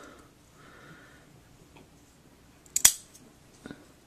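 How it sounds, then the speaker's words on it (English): Scissors make one short, crisp snip into a fabric cape for a no-sew sock monkey superhero costume, followed by a couple of faint clicks, all in a quiet room. "take your scissors and just make a little cut"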